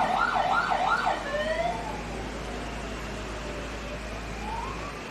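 A wailing fire engine siren at a fire scene in Indonesia rises and falls in quick cycles for about a second, then fades into a long, fainter sweeping tone over steady background noise.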